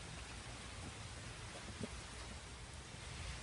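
Rain falls steadily outdoors as a faint, even hiss with scattered soft drops and no voices.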